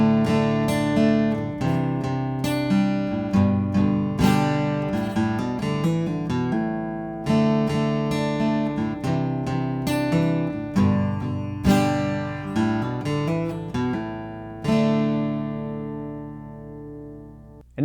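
Acoustic guitar playing a riff with pull-offs, close and moderately quiet, a busy rhythmic pattern of plucked notes and chord hits repeating, ending on a ringing chord, with no voices.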